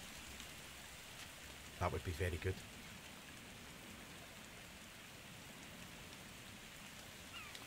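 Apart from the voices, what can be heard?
rain in the video game The Forest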